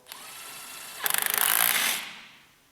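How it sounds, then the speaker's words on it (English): A power drill briefly drives a screw into a cable tray fitting, a short rising whir that starts after a quieter tool hum, runs for about a second and then winds down alone. "just give it a good screw, and that should be plenty tight"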